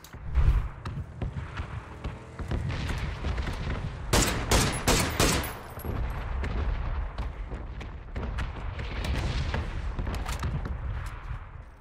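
Rapid bursts of automatic gunfire spray in a PUBG duo match, dense volleys with a sharp cluster of loud shots near the middle, continuous over game background noise.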